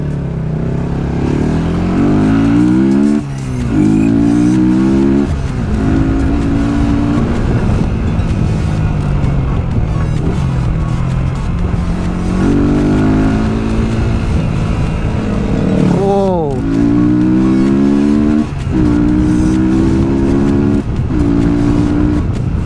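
A Yamaha New Vixion motorcycle revs repeatedly through a loud Yamaha R25 exhaust, with rising and falling throttle blips and a steady rumbling idle in between, close by.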